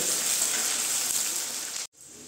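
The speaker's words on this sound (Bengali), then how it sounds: "এখন পেঁয়াজগুলো আমি লাল করে ভেজে নিব।" Sliced onions fry in a pan until browned for a Bengali egg dish. A bright, even sizzle hisses steadily, cuts out abruptly, then returns slightly softer.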